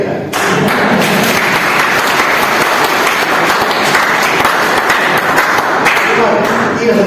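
Audience applause in a hall, dense continuous clapping from a large crowd that stays loud and steady throughout.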